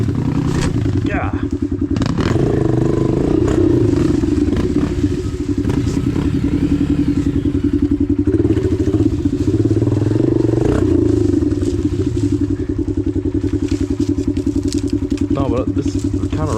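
A dirt bike struggles through a rocky creek, its engine droning and revving hard with clattering knocks, loud and close throughout, while voices speak over the engine noise.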